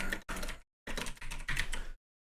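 Rapid bursts of keystrokes on a computer keyboard while entering lettering text, four dense clattering runs separated by short pauses, close and alone with no talk.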